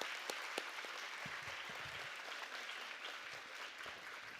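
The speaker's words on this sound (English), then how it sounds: "Yeah, it deserves a big round of applause." An audience at a university convocation ceremony applauds, a soft, steady wash of many hands clapping that sounds fairly distant and continues evenly throughout.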